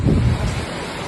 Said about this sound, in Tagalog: makikita ang malakas na agos ng tubig sa loob ng subdivision sa kasagsagan ng malakas na ulan.